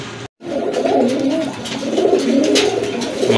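A pair of sky-blue pigeons coos close by in a continuous, throaty, rolling murmur, broken only by a brief gap near the start.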